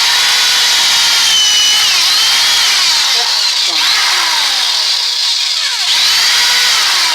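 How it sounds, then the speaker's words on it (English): A power drill whines steadily at close range, its pitch shifting slightly as the bit bores through a truck camper wall, with brief dips in motor speed. "I'm going to drill into this wall"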